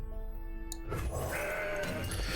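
A goat bleats loudly as a card is played in Legends of Runeterra, one drawn-out bleat over game effects, close and dominant.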